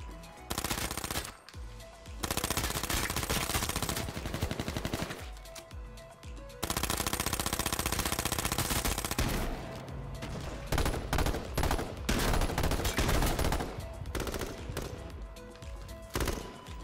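Loud, sustained automatic gunfire from the online battle royale game H1Z1 on PS4 comes in long dense bursts separated by short lulls, close and overpowering with no speech.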